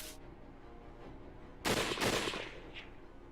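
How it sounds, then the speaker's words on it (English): A volley of gunfire from the video game Hakuoki: Kyoto Winds comes as a sudden, loud burst of crackling shots lasting about half a second, then fades into a quieter low background. "A second volley of gunfire rattled through the air"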